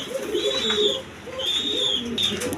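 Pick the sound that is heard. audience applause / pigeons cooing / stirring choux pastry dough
pigeons cooing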